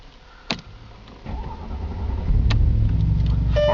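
A car that has sat for two days cranks with a click and a short whirr, then its engine catches and settles into a rising, steady idle with a slight exhaust leak rasp.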